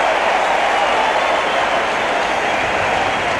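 A cricket crowd at a 1989-90 Pakistan versus Australia match roars as a batsman is bowled, a dense, loud and sustained wash of cheering and applause with no break.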